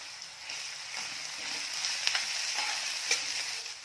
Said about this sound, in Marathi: कांद्याचा रंग बदलेपर्यंत कांदा छान परतून घ्यायचा आहे भाजून घ्यायचा आहे